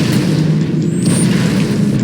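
A grenade explodes in the video game Halo Reach with a loud, sustained low boom that rumbles steadily throughout without a clear sharp onset.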